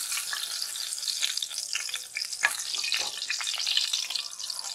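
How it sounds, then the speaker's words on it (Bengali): Pointed gourd pieces being lifted from hot frying oil: a steady, bright crackling sizzle with soft scraping clicks and a brief clatter midway, no talk. "তেলটা ঝরিয়ে নিয়ে আমি শুধুমাত্র পটলগুলোকে তুলে নিচ্ছি।"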